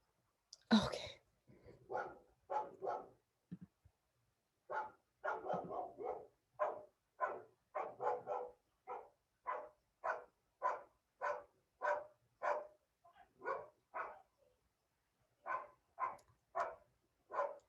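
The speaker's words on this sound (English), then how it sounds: "My neighbors have a dog. I don't know if you guys can hear that as well." A neighbor's dog barking: a long run of repeated barks, steady and rhythmic at about one per half-second, with a brief pause midway, fairly close and clear with no talk over it.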